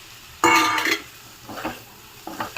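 Fried meal maker being stirred into gongura curry in a pan, heard as a few short scraping and clattering stirs over a faint sizzle, close up, without talking.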